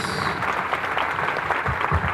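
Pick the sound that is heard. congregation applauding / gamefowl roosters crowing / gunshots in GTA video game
congregation applauding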